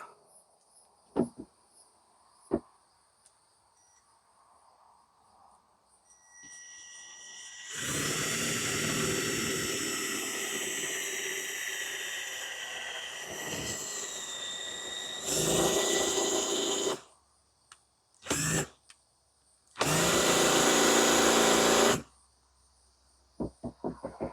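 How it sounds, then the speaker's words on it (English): A power drill bores holes in several loud bursts, whining as it spins up, with brief quiet gaps and light handling clicks between runs. "Then I'm going to come back in with my drill bits."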